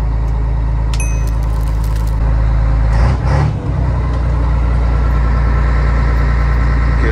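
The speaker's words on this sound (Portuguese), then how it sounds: "o barulho desse motor desse caminhão aqui não tem igual" A truck engine idles at a steady low rumble, close and loud, with a brief deeper surge in the middle and the air conditioning running; no one speaks.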